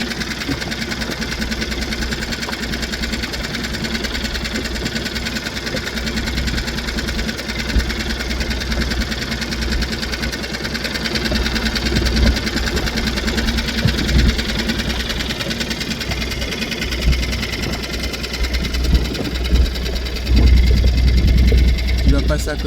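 Boat engines run in a channel with a continuous low mechanical drone and rattling throb, loud and steady throughout, while people talk over it.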